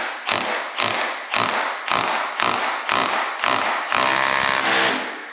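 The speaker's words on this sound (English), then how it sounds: "I'm gonna take my roto hammer" A rotary hammer drills through wood in loud, close, repeated short bursts, about seven in a row, ending in one longer continuous run.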